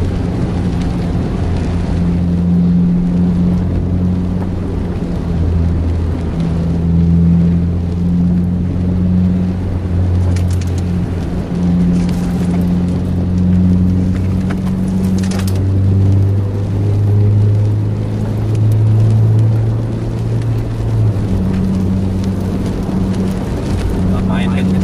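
A sleeper bus engine drones and revs on the road, its deep rumble rising and falling over a steady rush of road and wind noise, with voices talking inside the vehicle.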